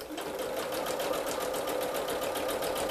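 Sewing machine stitching a toiletry bag, running at a steady, fast, continuous mechanical rhythm close up, with no pauses.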